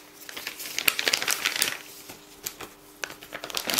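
A disposable plastic piping bag crinkles and crackles up close as a tube of coloured icing is pushed down inside it, in irregular bursts of rustling with short pauses.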